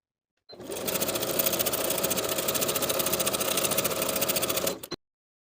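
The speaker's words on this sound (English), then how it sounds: "Top stitch about 1/8 inch below the main seam using a zigzag stitch." A sewing machine runs a zigzag top stitch along a stretch denim jeans seam, a fast, even mechanical chatter that starts abruptly, holds steady and loud for about four seconds, then stops dead, with no voices.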